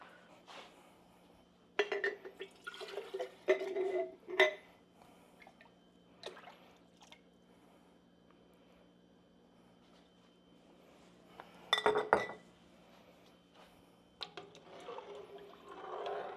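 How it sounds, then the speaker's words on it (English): Glass jars being rinsed out with water while making South Louisiana seafood gumbo with shrimp stock, heard as a few short splashing, sloshing bursts separated by long quiet stretches in a kitchen. "I think I'm going to do about another 1/2 quart and rinse out these jars."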